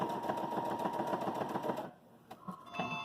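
A Baby Lock Jubilant sewing machine stitches a seam with a steady, rapid mechanical chatter for about two seconds, then stops, leaving a few quieter clicks and taps of the needle and fabric being adjusted.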